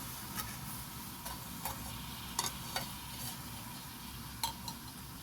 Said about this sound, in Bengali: এভাবে নাড়াচাড়া করে আমের সাথে চিনিটাকে মিক্স করে দেব।